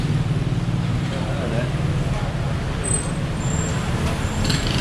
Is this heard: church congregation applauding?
no